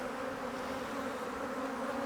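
Honeybees from a strong colony being moved from frames of brood into an insulated cork hive give off a dense, continuous buzz, close and steady without a break.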